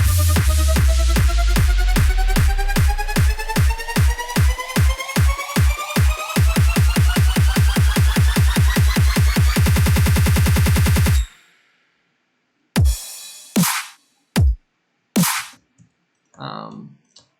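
A punchy instrumental beat made in FL Studio with steady, repeated drum hits and layered synth tones, no vocals, playing loud for about eleven seconds, then a few isolated hits after a break.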